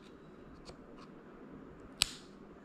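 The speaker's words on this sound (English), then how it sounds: "You'll hear it as you're clicking it, the little snap releases" A single sharp, tiny snap from an M1 MacBook Air keycap clip releasing, quiet and close, preceded by a few faint clicks against a low background hiss.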